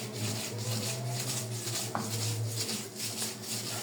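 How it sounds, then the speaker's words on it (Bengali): Fish is ground into a paste by hand for bhorta on a grinding stone, with rhythmic rubbing and scraping strokes repeating steadily up close and one small knock partway through, without speech. "এখানে নিয়ে নিলাম মাছগুলা ভালো করে বেটে নিব।"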